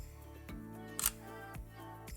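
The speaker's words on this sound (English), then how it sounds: "I can just hold down the shutter and the camera will keep on firing" Sony A6400 mirrorless camera shutter firing in a continuous burst, a steady run of close, crisp mechanical clicks repeating about every half second with a low hum underneath.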